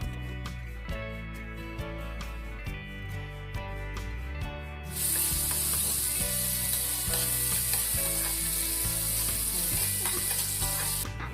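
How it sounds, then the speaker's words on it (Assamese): Continuous hissing sizzle of potatoes frying in oil, with metallic scraping and clicking early on before the sizzle swells louder and steadier. "সেই তেলতে আলুকেইটাও ভাজি লৈছোঁ।"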